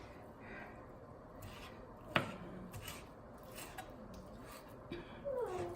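A knife chops ham on a cutting board, giving a few sparse, light taps at close range beneath a person talking.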